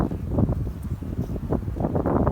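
Strong February wind blows across an outdoor apiary among the beehives, buffeting the microphone in uneven low gusts that rise and fall, with no talking.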